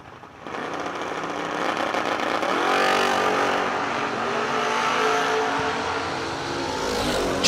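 Drag race cars launching side by side, a Mustang against a quick Corvette roadster at a Working Man's $10 Grand event, a loud, sustained engine roar that rises and holds steady for several seconds with no talk.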